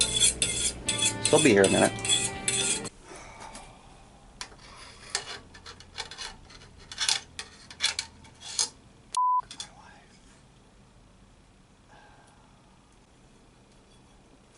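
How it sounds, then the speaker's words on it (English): Fork whisking a homemade eggnog mixture in a pot on the stove, heard as clinks and scraping taps against metal, busiest early, then sparse knocks and a short beep, with a brief spoken remark. "we're going to use a fork because, you know, maybe that's the tool that we have. You want this to whisk until it's simmering."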